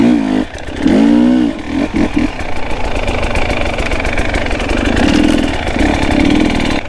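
A KTM 300XC two-stroke dirt bike engine runs loud and close, with a raspy idle broken by several sharp revving blips that rise and fall.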